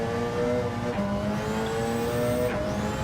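A race car accelerating in a sim racing endurance session, its engine note rising and shifting at a steady moderate level, with other engine whines faint in the background.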